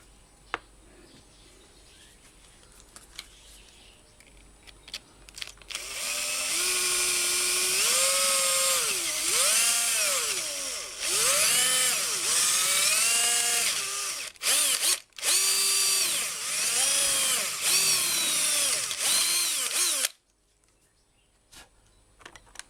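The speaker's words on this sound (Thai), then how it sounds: "เดี๋ยวเจาะรูนี้เพิ่มกันฮะ" A power drill bores a hole in the plastic casing of a rechargeable Bluetooth speaker under repair, whining loudly for about fifteen seconds in several bursts with brief pauses and pitch dips under load, after a quiet start.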